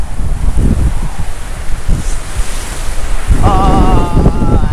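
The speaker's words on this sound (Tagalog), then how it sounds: "Guys, malakas pa rin yung hangin." Strong Hurricane Fiona wind roars and buffets the microphone on Bermuda, loud and continuous with gusting rumble and a rushing surf-like hiss, and no voices.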